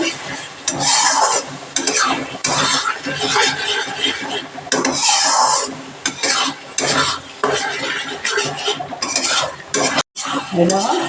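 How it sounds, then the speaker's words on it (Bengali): Spices and cashew paste fry with a steady close sizzle while a spoon stirs and scrapes around the pan in repeated strokes, without pause. "এটা কাজু বাদাম বাটা আছে। এগুলোকেও হালকা একটু ভেজে নেব"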